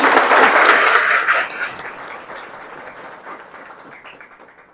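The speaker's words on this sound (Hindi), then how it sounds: "एक बार ताली बजा दीजिए।" An audience at a Hindi honouring ceremony claps in a loud burst that quickly thins and trails off into fading scattered claps.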